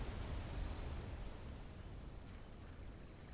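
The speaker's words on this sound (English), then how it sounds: "Is the waterfall still going?" A waterfall in the video game Blue Prince, a faint, steady broadband rush of falling water heard alone and unchanging throughout.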